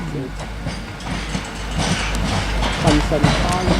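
A two-carriage Class 175 train, 175010, rolls past at Shrewsbury. A broad rumble builds with rhythmic wheel clatter, fairly close and growing louder, while someone talks over it.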